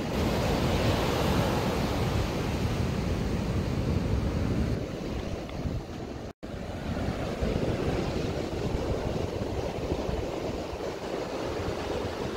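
Steady roar of ocean surf crashing and washing continuously, with a brief dropout midway; no voices, just the broad wash of waves and some wind.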